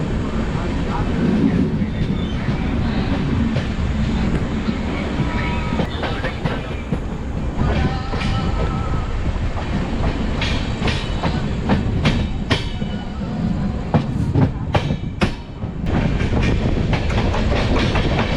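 Chennai–Mangalore Super Fast passenger train rolling on rails, a steady close rumble of wheels with clicks and rattles of the carriage throughout, faint voices underneath.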